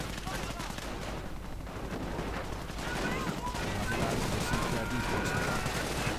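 A video game infantry battle rattles with dense, continuous rifle and machine-gun fire and rifle grenade blasts, a busy, distant-sounding wash of combat noise with no pause.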